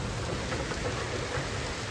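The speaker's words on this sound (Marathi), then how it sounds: "आज एवढा भयंकर पाऊस चालू झाला आहे नागपूरमध्ये" Heavy monsoon rain pours down in Nagpur, a dense, steady roar of rainfall close by, with no voices over it.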